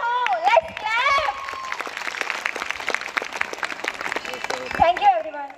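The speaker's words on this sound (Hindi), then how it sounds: "Let's clap." An audience at a school annual function (CPS Naroli, 2023) claps continuously through the middle, with voices speaking over the applause at the start and end.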